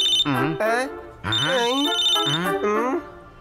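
Cartoon telephone ringing in a Tamil animated story: loud, close electronic ring bursts with warbling tones, repeated several times and nearly continuous, with no speech between the rings.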